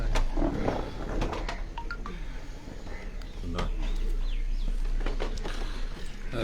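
Kasuri pigeons coo on a rooftop with soft, low cooing and fluttering close by, under steady wind noise. People talk over it at times.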